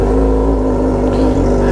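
A Suzuki Gixxer motorcycle engine with a charging problem runs at a steady loud idle close by, a deep even drone with no rise in revs.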